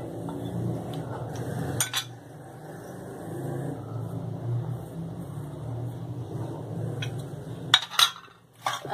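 Palak gosht, with water, oil and spices added, is stirred in a pot. A spoon scrapes and clinks against the metal in a soft, steady rhythm, with a couple of sharper knocks against the rim.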